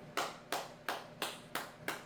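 Six evenly spaced hand claps, crisp and close, coming at a steady slow rhythm with nothing else heard.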